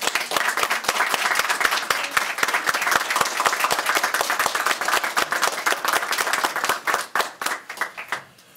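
Guests at an Alpha Sigma Lambda induction ceremony for adult continuing education students applaud the new inductees, a full round of close clapping that holds steady, then thins out into a few scattered claps as it ends.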